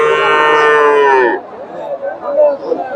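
A young Friesian bull gives one long, loud, close moo at a busy cattle market in Bogura, followed by the softer jumble of crowd noise and distant voices.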